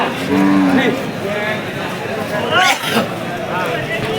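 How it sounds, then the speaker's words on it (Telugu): Cattle mooing at a bustling bullock market in Bangarapet, a couple of low drawn-out calls among background chatter and crowd noise. "ఇంత మొత్తం ఎద్దులే ఇక్కడ"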